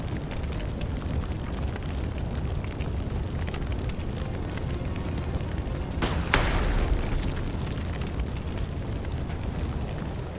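A single explosion blows up a wall corner in the Xenonauts 2 strategy game, a short blast bursting over a steady wash of background game noise.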